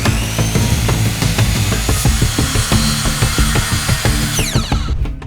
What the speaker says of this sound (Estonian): Selle plaadi lõikan kõigepealt vajalikku suurusesse.